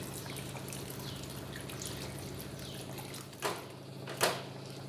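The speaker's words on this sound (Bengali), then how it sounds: "এবার ওতে জল দিয়ে দেব" Water is poured into a pan of potatoes and peas being cooked for ghugni, giving a soft, fairly faint trickling and splashing that is followed by two quick knocks near the end.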